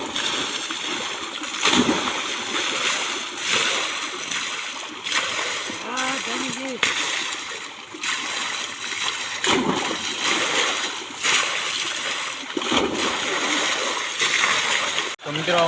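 Water splashing and sloshing steadily while someone bathes outdoors, close and continuous, with someone talking over it throughout.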